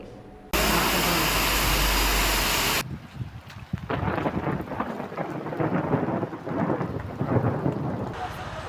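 A loud roaring burst of thunder, then steady heavy rain and hail pattering close by with gusty fluctuations in strong wind.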